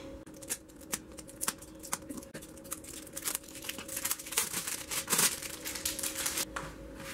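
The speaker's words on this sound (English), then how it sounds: "I'm going to go ahead and open up this palette" A cardboard eyeshadow palette being unwrapped, with close crinkling, tearing and papery rustles coming in irregular bursts, then a louder crumple near the end.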